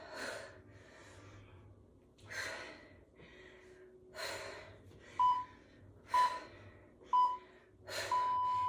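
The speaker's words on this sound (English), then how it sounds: "You can see I'm breathing as I row, and I'm breathing as I deadlift also." Heavy rhythmic breathing during dumbbell deadlifts and rows: strong exhales and gasps repeat about once a second, close and fairly loud, with faint electronic beeps near the end.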